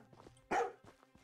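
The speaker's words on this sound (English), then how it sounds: "Actually, if he was a zombie, he wouldn't be barking like that" Single bark from a dog in a zombie-apocalypse survival video game, a loud burst at mid-clip among quieter footsteps and faint background sounds.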